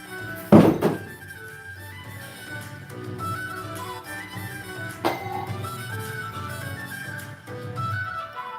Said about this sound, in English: I think that was my second throw of the knife